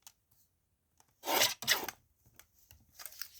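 Paper being trimmed for a junk journal, two brief rasping cutting strokes close by followed by softer scraping and rustling, alone in a quiet room.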